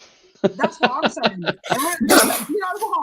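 A single sneeze bursts out between stretches of conversation among football fans, loud and close, with broad noisy energy, followed by more chatter.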